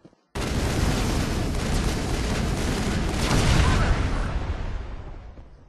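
A sudden loud explosion erupts in the video game Mass Effect on Luna, followed by a sustained roaring rumble of blasts that slowly fades away over several seconds.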